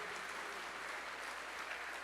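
Church congregation clapping for the Lord during a sermon, a steady, dense wash of hands sustained throughout without pause.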